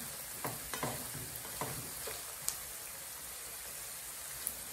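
Green pepper and other vegetables fry for chicken fried rice, a soft, steady crackling sizzle with a few sharp spatula taps and knocks, fairly quiet and close.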